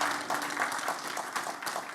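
Applause from a church congregation for Christ during a Christian worship service, a steady wash of many hands clapping at moderate volume with a faint sustained tone underneath.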